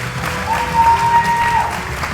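Audience applause at a Smash tournament championship honoring the competitors, a steady moderate wash of clapping over crowd murmur with a faint sustained tone running through the middle.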